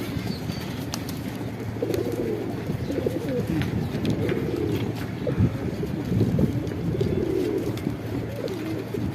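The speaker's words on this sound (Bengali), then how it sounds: "এটা হইতাছে একটা সিলভার বাঘা কবুতর" Silver Bagha pigeons coo in low, repeated rolling calls throughout, close by, over light wind noise.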